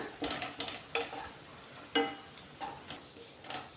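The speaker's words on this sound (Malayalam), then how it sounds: "എല്ലാം കൂടെ ചേർത്തിട്ട് നമുക്കിത് നന്നായിട്ടൊന്ന് ഇളക്കി കൊടുക്കാം" Cardamom powder and cashews are stirred in a pan for sweet kozhukatta, with several distinct scraping strokes and spoon knocks over a faint background sizzle.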